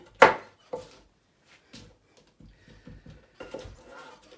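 A knife chops onions on a cutting board, giving a series of close, irregular knocks: a couple of strong cuts, then lighter, quicker taps spread across the moment.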